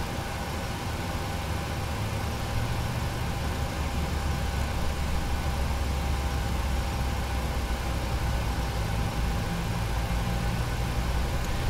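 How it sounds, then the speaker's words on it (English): A PMDG 737-800 number 2 engine spins up for start in a Prepar3D flight simulator cockpit, heard as a steady, loud low-pitched rumble and broadband whine with no voices. "we are going to start the number 2 engine"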